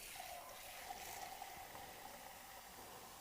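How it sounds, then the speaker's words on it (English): Water is poured into a pot of fish stock, giving a soft, steady trickling pour that is faint and continuous, with a slight bubbling tone underneath. "I'm going to add a bit more water."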